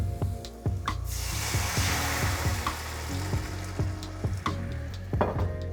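White wine poured onto shallots cooking in butter in a hot pan, giving a steady close sizzle and hiss with repeated sharp clinks of a utensil against the pan throughout, over a low background hum.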